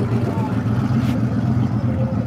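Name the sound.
car exhaust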